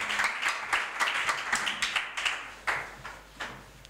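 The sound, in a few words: congregation applauding in church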